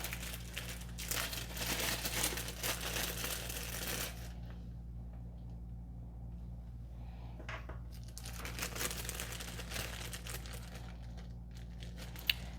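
Plastic bag of parts for a Prusa MMU3 kit being opened and rummaged through, crinkling and rustling in bursts at the start and again near the end with a quieter pause between, no talk.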